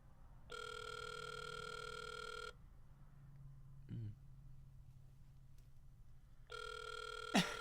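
A phone ringback tone plays over a speakerphone, two long ring bursts separated by a silent gap, thin and tinny, with faint room noise between.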